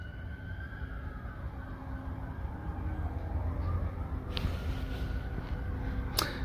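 Emergency vehicle sirens wail outside at a distance, a steady rising and falling tone over low background rumble, with a sharper burst near the end.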